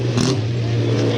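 A race car in the T2 category at a second qualifying heat in Elne powers through the final corner, its engine droning loud and close for a brief pass with a steady mid-pitched hum.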